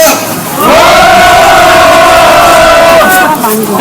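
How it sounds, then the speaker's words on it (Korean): A crowd at an outdoor candlelight rally in Yeoju lets out one big sustained shout together, loud and close, swelling after a brief lead-in and holding for about two and a half seconds before fading. "다 같이 큰 함성 시작!"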